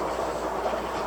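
A Harbor Freight rock tumbler spins quartz inside its barrel, a steady close rumbling churn with a faint rhythmic clatter that continues with no pauses or voices.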